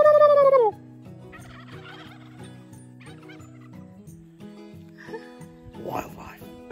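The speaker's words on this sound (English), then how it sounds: "Deep in New Zealand, the wild turkey hears a call." A loud wild turkey gobble rings out at the start in New Zealand, then a voice talks over a bouncy musical backdrop.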